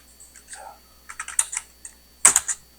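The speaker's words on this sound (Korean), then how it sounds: "강사 키보드가 바뀌었는데 키보드가 좀 전혀 손에 안 익네요." Scattered, irregular keystrokes on a computer keyboard during a classroom coding lesson, soft at first and then clustering into a few sharper clicks near the end.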